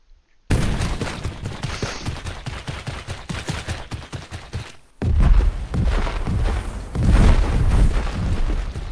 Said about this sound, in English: Look at those mortars.